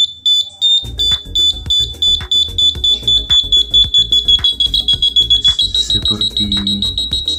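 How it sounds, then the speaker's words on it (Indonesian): A shrill electronic buzzer tone sounds steadily and steps higher in pitch near the end, over a loud, rhythmic thumping beat. "Inilah buzzernya, dari frekuensi rendah ke tinggi. Semakin tinggi semakin kencang suaranya."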